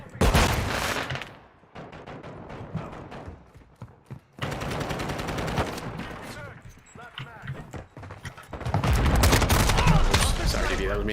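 Gunfire in a Call of Duty mod, with rapid bursts of shots in repeated volleys, some bursts loud and dense and others sparser. Voices can be heard between and under the firing.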